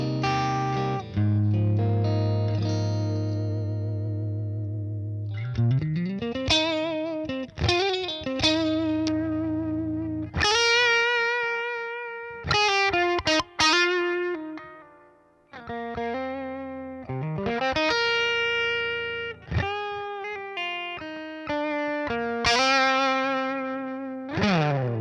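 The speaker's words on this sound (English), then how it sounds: "So through just a kind of single coil sound on the Ibanez here." An Ibanez electric guitar with a single-coil tone played through a Boss Katana 100 Gen 3 amp, ringing sustained notes and chords with light drive and effects, phrases separated by short pauses, no voices.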